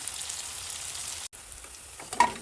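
Sliced onions fry in hot oil until golden brown, a garnish for paneer biryani, with a steady, fine crackling sizzle broken by one brief gap and a few faint clinks near the end.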